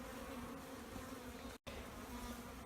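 Honeybees on hive frames buzz in a dense, steady drone close by, a continuous swarm hum with one brief break.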